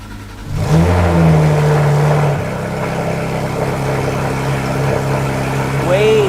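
A Porsche GT3 RS engine rises in a brief rev, then settles into a steady, subdued hum with exhaust valves closed, with another rev beginning at the end and voices faintly beneath.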